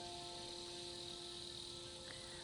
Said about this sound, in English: The sound of cicadas?